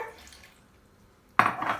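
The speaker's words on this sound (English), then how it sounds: "we're going to go ahead and add half a cup of water" Half a cup of water is poured into a pan for spicy shrimp sauce (camarones a la diabla), a sudden splashing rush after a quiet stretch, loud and close.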